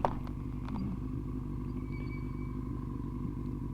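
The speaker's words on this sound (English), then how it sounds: "Thing's idling dead on." A Yamaha R1 motorcycle engine idles steadily after a carburetor cleaning, a low even rumble with a firm, regular pulse and a faint higher whine, recorded close, with a short knock at the start.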